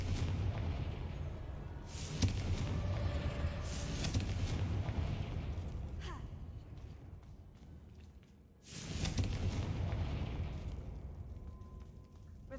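Confringo spell blasts in Hogwarts Legacy, a booming fiery explosion with a rolling rumble, a short lull, then a second loud burst that tails off.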